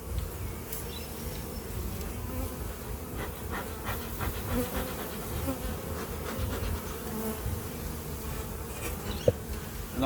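Honey bees buzz in a dense, continuous drone during a full hive inspection, close and steady, with occasional handling bumps of hive equipment.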